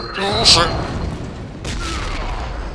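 A grenade blast in the horror shooter Real Age of Horror, one sharp loud explosive burst followed by a rumbling tail and a second softer blast, fairly close.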